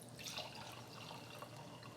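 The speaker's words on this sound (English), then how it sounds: "let's pour a little wine to enjoy along with the chicken" Wine pours into a glass alongside a chicken francese dish, a faint, steady liquid trickle with soft gurgles and splashes, close and quiet, lasting about two seconds with no talking.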